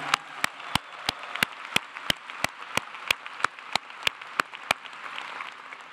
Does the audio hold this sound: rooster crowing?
no